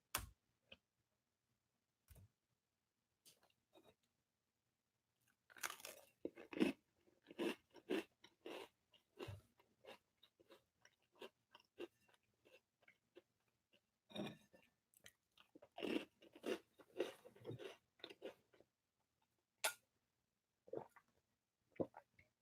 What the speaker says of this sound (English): Motion sound effects, layer 3, separate track of eating.